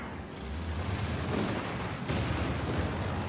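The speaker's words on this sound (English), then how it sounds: "Nice mine taking out an entire Volkswagen here" A mine blows up a Volkswagen in the wartime strategy game Company of Heroes 2, heard as a dense, rumbling blast with crackling debris running across the short moment, loud and close.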